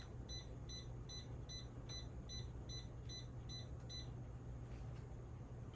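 A Traxxas RC car's motor controller beeps during setup: about nine quick, evenly spaced electronic beeps over a steady low hum, stopping after roughly four seconds.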